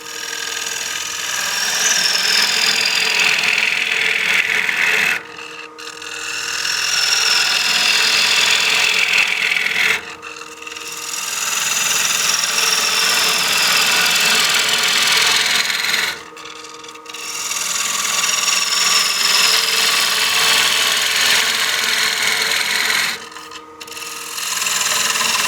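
A bowl gouge takes heavy roughing cuts on a wood bowl spinning on a lathe, giving a loud continuous rasping shear broken by four brief pauses as the tool is repositioned.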